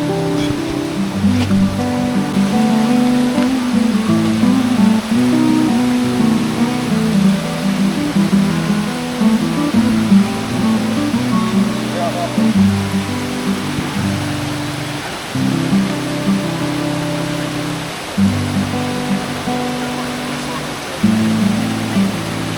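Pala-U waterfall pours in a constant loud roar of rushing water, close and unbroken, with a low droning hum layered under the white-noise wash.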